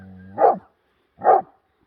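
Two sharp dog barks about a second apart, close and fairly loud, with silence between them.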